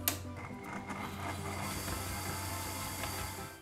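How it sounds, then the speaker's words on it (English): A hand mixer beats cocoa and butter for a chocolate cake, giving a steady whirring motor drone with a faint scraping texture that runs unbroken from start to finish, with no talking. "using a hand mixer or a stand mixer,"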